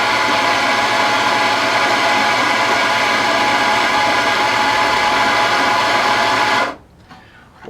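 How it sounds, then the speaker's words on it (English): A Mahlkonig ProM coffee grinder grinding beans for a cafe latte gives a steady, loud, dense whirring buzz that runs unbroken for nearly seven seconds, then cuts off abruptly into a faint low rattle. "and again I'm going to grind my coffee."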